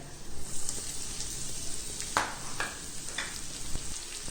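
Ridge gourd peel sizzles and fries in hot oil with urad dal, a steady close crackle with a few sharper pops and stirring scrapes throughout.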